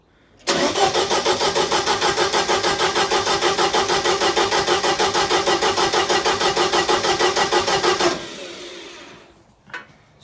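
A 1980 Clark Bobcat 732 skid steer engine cranking for several seconds, a loud, close, rapid rhythmic churning of the starter that fails to catch, then stops abruptly, followed by quiet and a faint clunk.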